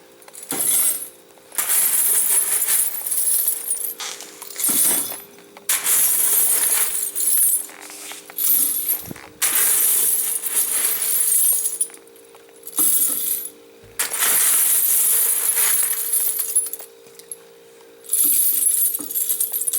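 Bursts of tinny jingling and clinking keep starting and stopping as loose aluminum CCI and Federal ammo casings spill into a hot melting crucible, each pour lasting a second or two with short pauses between.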